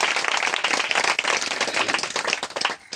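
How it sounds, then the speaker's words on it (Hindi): A church congregation claps together in welcome for first-time visitors, a loud, dense burst of many hands that runs steadily for a few seconds before tapering off. "हम ताली बजा के आपका स्वागत करते हैं"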